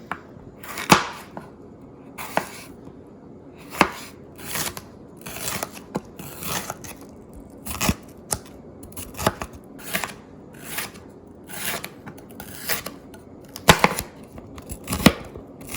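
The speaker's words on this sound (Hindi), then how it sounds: "इस तरह जूलियन कटिंग में काट रही हूँ" A knife julienne-cutting onions and carrots on a board for Hakka noodles, giving a long run of crisp, close chopping strokes in uneven bursts and pauses, loud and clear with no talk.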